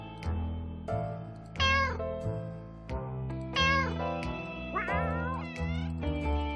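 A cat meows three times in drawn-out, wavering cries, alone over a steady background music track with no talk.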